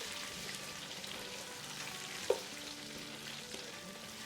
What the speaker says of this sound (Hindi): यहाँ आलूओं को हिला लेते हैं